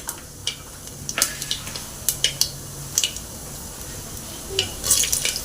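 Mustard seeds and cumin are added to hot oil in a pan, giving a soft crackle with scattered sharp pops and a few spoon-against-pan clinks, close and fairly quiet with no talk.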